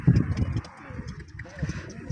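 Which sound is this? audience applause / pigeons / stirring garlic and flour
pigeons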